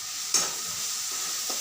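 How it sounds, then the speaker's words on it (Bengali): Chopped onion fries in a wok with a steady, hissing sizzle and a brief scrape of stirring, close and continuous throughout. "সেই কড়াইয়ের মধ্যেই আবার একে একে প্রথমে পেঁয়াজ কুচি মেশালাম।"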